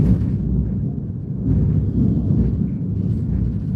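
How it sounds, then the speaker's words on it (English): Thunder rumbles on as a continuous deep roar, steady and fairly loud, swelling slightly partway through, with no voices over it. "Oh my goodness, that's thunder."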